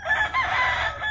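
An asil gamecock rooster crows once, a short raspy call heard close and fairly loud with no talk over it.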